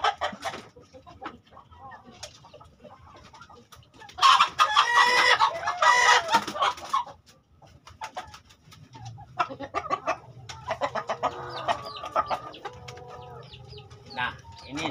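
Broody hens in a front coop cluck and cackle in loud, repeated bursts, with a rooster-like crowing call among them and softer scattered clucks and quiet background noise in between.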